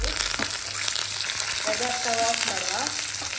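Curry leaves crackle and sizzle in hot tempering oil for a village-style Mangalorean crab curry, a steady close frying hiss with brief stirring sounds and no voices.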